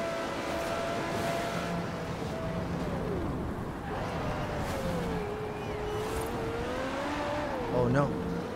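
Race cars roaring through a Forza Horizon 4 race, engine tones sweeping up and down continuously with a brief burst near the end, under steady engine noise while a voice talks over it.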